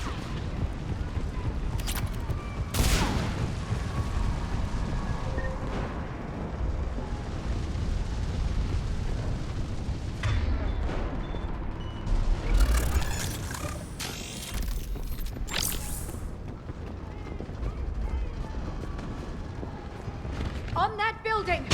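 Artillery fire-support explosions in the video game Mass Effect 3 on PS5: repeated heavy booms and blasts amid continuous battle noise, with characters shouting over the combat.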